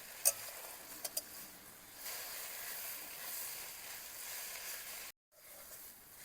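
Moringa (drumstick) leaves fry in a pan, giving a soft, steady sizzle and hiss with a few faint clicks, and a brief drop out near the end.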